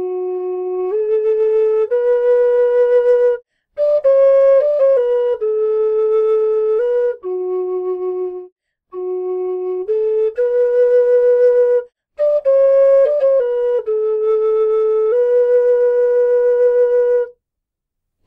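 Solo tin whistle plays a slow, clear melody of held notes in phrases separated by short breaths, close and bright, with no voices.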